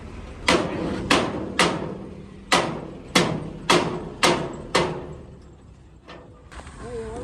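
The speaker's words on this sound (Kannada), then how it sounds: "ನೋಡಿ ವೆಲ್ಡಿಂಗು ಕಟ್ ಮಾಡ್ತಾವನು" Heavy hammer blows strike metal on a truck to break a weld: eight loud, ringing clangs at roughly half-second to one-second intervals, each decaying briefly, then a quieter tail.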